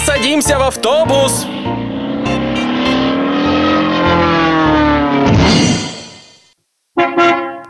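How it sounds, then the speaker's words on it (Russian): A cartoon bus in an animated children's song revs and drives off, its loud engine tone rising and falling before fading away, with bright musical accents around it and a brief burst after a pause. "Садимся в автобус."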